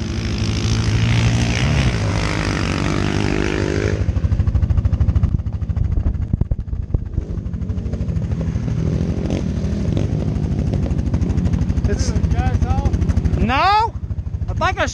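A motorcycle engine drones loudly and steadily on a drag run on a MotoGP track, then the revs rise and drop in sharp sweeps near the end.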